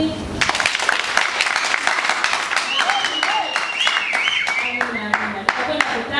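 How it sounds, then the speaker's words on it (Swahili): Congregation applause in a church during announcements of pledges toward the church building fund, a dense, steady patter of many hands clapping, moderately loud and continuous, with voices mixed in underneath. "Makofi."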